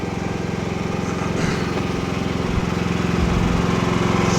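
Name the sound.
generator engine running, changing load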